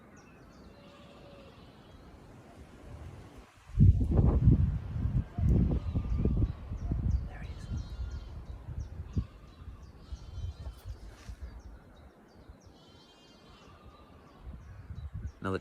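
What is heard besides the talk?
chiffchaff singing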